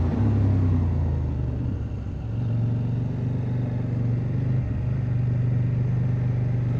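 A CFMOTO 800MT-X motorcycle engine drones steadily while being ridden, a loud low rumble that shifts pitch slightly as it pulls, with no talking.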